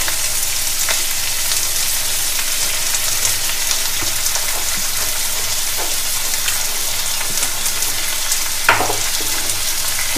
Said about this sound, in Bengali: এই মশলা একটু ভাজা ভাজা হবে। ভাজা হওয়া পর্যন্ত একটু কষা করা।